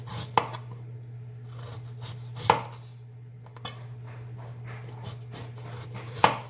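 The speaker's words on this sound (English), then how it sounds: "This is a green borrowed banana. I'm going to slice it" Knife cutting through a green banana on a board, with a few sharp chops standing out over a steady low hum and quieter scraping between them.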